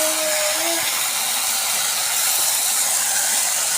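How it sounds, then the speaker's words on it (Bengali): Soaked red lentils frying in a pan with salt and turmeric, a loud steady hiss of sizzling close up, with a brief tonal squeak at the start. "মুসুরির ডালটা একটুখানি ভালো করে ভেজে নেব।"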